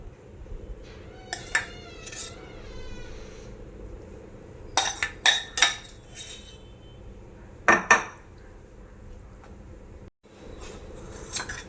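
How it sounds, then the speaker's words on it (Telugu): A spoon works a cooled tempering of fried seasonings into cooked rice for raw-tamarind pulihora, giving scattered metallic clinks and scrapes against the vessel in short bursts over a steady low background hum, with a faint animal-like cry early on. "పోపు బాగా చల్లారిన తర్వాత ముందుగా ఉడికించి పెట్టుకున్న అన్నంలో ఈ పోపును కలుపుకోవాలి"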